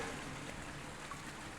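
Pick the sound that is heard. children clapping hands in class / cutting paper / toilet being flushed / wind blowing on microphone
toilet being flushed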